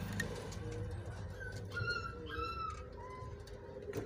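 Pigeons coo softly at a nest holding chicks and eggs inside a home, several low murmuring calls repeating over steady background hum.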